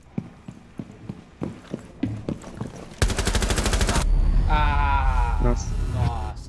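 Gunfire in the video game Rainbow Six Siege: a series of sharp single shots, then a dense, loud burst of rapid fire, with players talking under the game sound.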